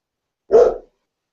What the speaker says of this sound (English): I apologize for the barking dogs